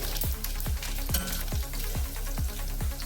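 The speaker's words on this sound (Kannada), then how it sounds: "ಎಣ್ಣೆ ಕಾದಿದೆ. ಸಾಸಿವೆ ಹಾಕಬೇಕು, ಜೀರಿಗೆ, ಬೆಳ್ಳುಳ್ಳಿ, 2 ಒಣ ಮೆಣಸಿನ್ಕಾಯಿ" Mustard seeds, cumin, garlic and two dried chillies sizzle in hot oil for a village-style besda chutney tempering, a steady loud crackle punctuated by regular popping bursts, with no talking.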